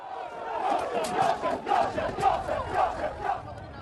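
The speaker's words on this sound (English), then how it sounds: "Crowds clashing with police outside a hotel where immigrants are being housed." Rioters clash with police outside a hotel housing asylum seekers in Yorkshire, a dense crowd roaring and shouting in repeated rhythmic surges, loud and sustained, with masked men yelling amid the din.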